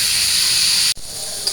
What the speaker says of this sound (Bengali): তো আমি লাল লাল করে পটলটা আর আলুটা ভেজে নেব